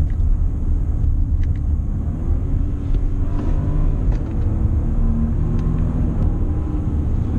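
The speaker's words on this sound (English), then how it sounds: "So let's do a couple of downshifts and upshifts." Inside an Audi Q7 3.0T with an 8-speed automatic, a low engine rumble shifts pitch as the gearbox smoothly downshifts and upshifts, steady and close with no talking.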